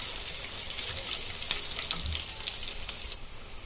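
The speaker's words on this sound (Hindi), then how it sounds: "थोड़ा सा इसको फ्राई कर लेंगे अभी 30 सेकेंड तक।" Onions and green chillies frying in a pan for lemon rice, giving a continuous close sizzle with light crackles and a soft stir or clink near the middle, no voices over it.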